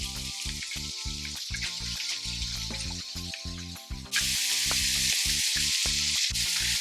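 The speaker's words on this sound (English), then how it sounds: "so let's just keep sauteing it" Diced ham sautéing in a pan for carbonara sizzles and crackles steadily under rhythmic background music, with the frying hiss growing noticeably louder partway through.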